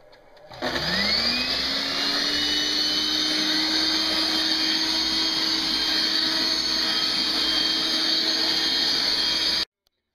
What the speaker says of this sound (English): and run the vacuum.